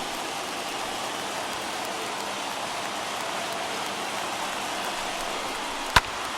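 Broad, steady roar of a baseball stadium crowd of over 39,000 on their feet at a Dodgers vs Pirates game, sustained and dense throughout, with one sharp brief crack near the end.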